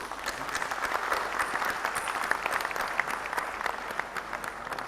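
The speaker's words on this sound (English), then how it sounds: "Clap for yourself." Students, faculty and administration applauding themselves at a university program in a large hall: a fairly distant, moderately loud wash of clapping with a few sharper individual claps standing out, steady throughout.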